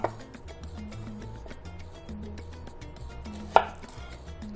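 A kitchen knife slices an onion in half on a cutting board while making beef empanadas, a single close chop standing out as a sharp knock over a steady low background hum and clatter.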